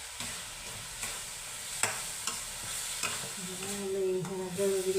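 Thick coconut batter for burfi is stirred in a hot pan, with soft scraping strokes and light sizzling, close and quiet, with a few sharper clinks of the spoon against the pan.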